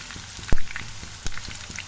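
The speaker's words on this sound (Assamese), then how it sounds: "মই পিঁয়াজখিনি প্ৰথম ফ্ৰাই কৰি ল'ম" Onions fry in hot oil for biryani, a steady crackling sizzle with a couple of sharp louder pops and spatters close by.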